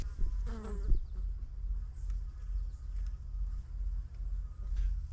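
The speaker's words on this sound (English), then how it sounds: "there's a bunch of scout bees on that thing today" Steady insect buzzing from several scout honeybees hovering close around a bee bucket, a continuous low drone with a brief louder pass near the start.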